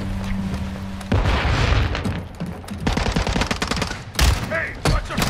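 Heavy gunfire and booming blasts in the Modern Warfare II campaign, dense bursts and impacts filling most of the stretch, loud and close, with brief shouted voices mixed in.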